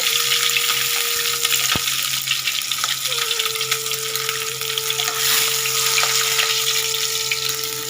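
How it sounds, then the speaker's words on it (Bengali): Hilsa fish frying in a pan: a steady, close sizzle and crackle of hot oil runs throughout, with a faint tonal hum underneath. "এখানে মাছটা আমি ভেজে নেব"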